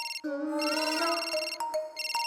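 A cartoon mobile phone plays a bright electronic ringtone, a short melodic chirping tune that repeats in quick bursts, close and clear with no talk over it.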